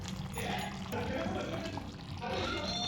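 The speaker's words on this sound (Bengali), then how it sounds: "অল্প একটু গোলাপ জল দিয়ে দেবো," A little rose water is poured into chicken chaap, heard as a soft continuous liquid trickle and splash close by with faint background noise.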